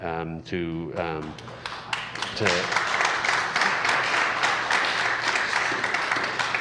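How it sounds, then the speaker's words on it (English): An audience at a school board meeting breaks into sustained applause, dense and loud clapping that swells right after a brief spoken phrase and continues steadily to the end. "please stop clapping"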